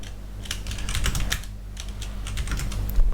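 Rapid, steady typing on a computer keyboard, a dense run of close key clicks with no talking over it.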